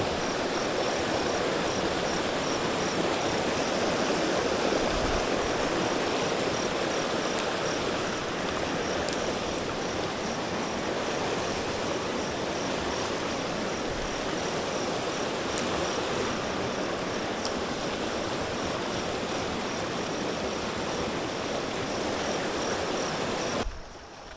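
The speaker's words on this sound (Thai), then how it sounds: "นี่แหละ เป็น ที่น้ำไหลลงไปในเขื่อนนะครับ" Water runs down from the headwaters into a dam reservoir, a steady broadband rush that stays even and moderately loud throughout, heard alone with no voices.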